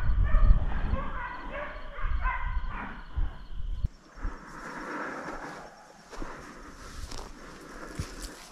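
A hunting dog barks and yips in quick repeated bursts during a deer drive in the South Carolina woods, loud and close at first, then more distant amid rustling footsteps and outdoor noise.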